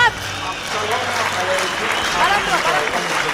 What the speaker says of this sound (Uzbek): o'rningizdan tik turib, qarsak chalishinglarni men orzu qilaman